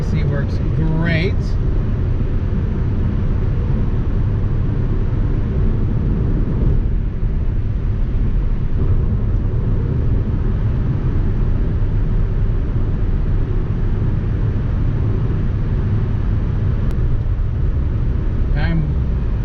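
A car with a rebuilt Toyota 5FSE engine cruises on a test drive, giving a steady, even drone of engine and road noise from inside the cabin that stays constant throughout.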